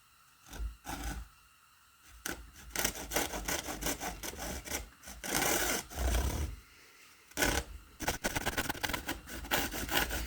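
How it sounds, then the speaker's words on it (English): A hacksaw cuts through a strip of semi-metallic brake lining material, its rasping strokes coming in irregular bursts separated by short pauses, close and fairly loud with no talking. "Put us a little line here and we just cut it with a hacksaw."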